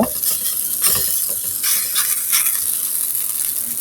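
Egg and vegetable pitha frying in oil in a pan, giving a steady close sizzle with a few light scraping touches, no voices.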